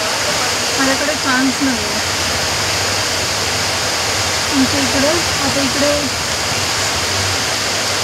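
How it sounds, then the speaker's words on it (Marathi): Heavy rain pouring down outdoors near a full drain, a loud steady roar of rushing water under a voice talking in short phrases. "म्हणजे किती 10-15 मिनटातच एवढा पाऊस जोरजोरात चालू झाला"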